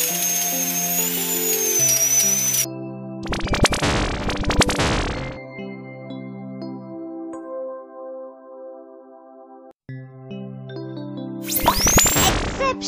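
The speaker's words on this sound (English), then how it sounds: "The drill can kill the germs." Electronic buzzing drill in a hand and nail doctor mobile game, sounding in two harsh bursts between bright musical game tones, with no speech.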